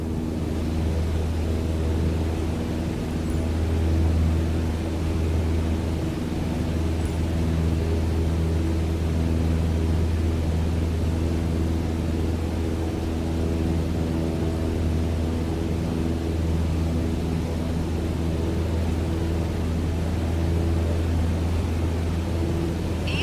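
A light aircraft's engine in Microsoft Flight Simulator 2020, an even steady drone with a low hum and a soft noise wash, held at a constant level for over twenty seconds with no talk.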